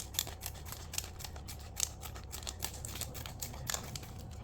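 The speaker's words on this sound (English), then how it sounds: "I will just cut off all this excess with my pair of scissors" A pair of scissors snips away excess plastic packaging around a round loaf of bread, giving a series of sharp, close crisp cuts at an uneven pace with faint crinkling between them.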